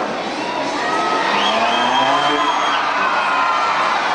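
Loud crowd cheering and whooping at a monster truck show in an arena, a steady roar of many voices with scattered high shouts filling the whole stretch.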